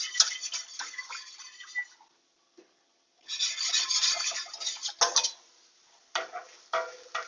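A vegan cauliflower Alfredo sauce being whisked with nutritional yeast, heard as bursts of brisk scraping and rattling whisk strokes against the pot, separated by short quiet pauses, close and fairly loud.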